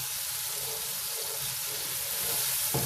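Onions and garlic fry in a pan for samosa filling, a soft, steady sizzle with faint stirring, fairly quiet and without talk.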